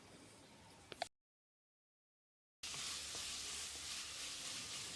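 Soft, steady sizzling of onion, ginger and garlic frying in a pan, cut briefly to silence partway through before the sizzle resumes.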